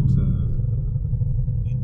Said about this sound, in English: I want to film these cars a little bit.